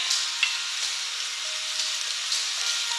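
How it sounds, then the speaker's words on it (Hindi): Spinach and corn fry over a high flame to cook off moisture, making a loud, continuous, even sizzle up close. A few soft stirring scrapes break through the sizzle. "हमें फ्लेम को हाई करें और ये जो पालक का थोड़ा एक्स्ट्रा मॉइस्चर है इसको सुखा लें"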